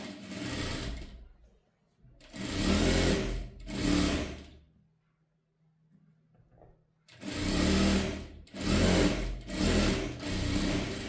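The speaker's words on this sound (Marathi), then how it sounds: "बघा इथे घ्यायचं आणि दाब शिलाई द्यायचं आहे आपल्याला" A sewing machine stitches a blouse in several loud, steady whirring runs of about a second each, broken by short pauses and one longer quiet gap, close up and with no talking.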